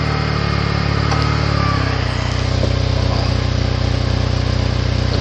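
A vehicle engine running steadily after a restart, a loud continuous idle with a low rhythmic exhaust pulse and a slight shift in tone about two seconds in, with no talk over it.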